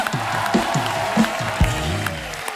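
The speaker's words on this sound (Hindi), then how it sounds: "खतरनाक टीम के लिए जोरदार तालियां हो जाए" A TV comedy show studio audience applauds and cheers for a team. A moderate, steady crowd noise runs under low, booming music hits.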